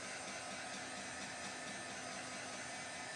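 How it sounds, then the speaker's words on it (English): Constant whirring blower noise of a heat gun with a steady hum, unbroken for the whole stretch, close by and moderately loud. "This is a heat gun."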